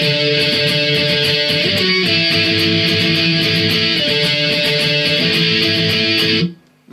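Electric guitar plays an interlude in octaves, loud and steady with sustained doubled notes and a driving picked rhythm, alone until it cuts off abruptly near the end.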